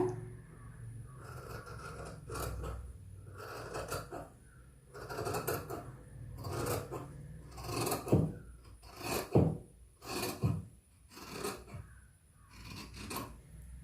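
Scissors cut through fabric for a nighty yoke, with repeated rasping snips and rustling of cloth at close range, fairly quiet throughout.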